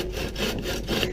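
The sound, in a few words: hand saw cutting a piece of wood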